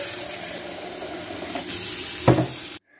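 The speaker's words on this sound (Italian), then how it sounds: "mettiamo l'acqua." Water poured steadily into a container while cleaning household radiators, a continuous close splashing flow that swells briefly near the end before cutting off abruptly.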